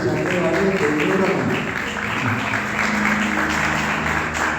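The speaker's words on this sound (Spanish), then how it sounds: "Un aplauso para ella nuevamente" Applause at a church gathering, steady clapping blended with crowd noise and music under it, continuous and fairly loud.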